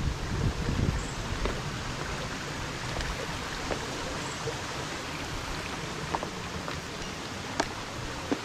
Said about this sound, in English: All I can hear is the sound of water